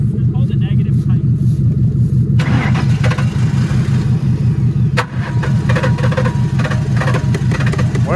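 A car engine cranks over and over with a loud, rapid, even rhythm without catching, likely from running out of fuel, while people talk nearby throughout.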